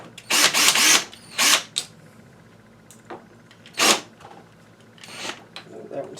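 Power driver backing out loosened star-bit screws from a string trimmer gear head, several short loud whirring bursts separated by pauses and light clicks of handling.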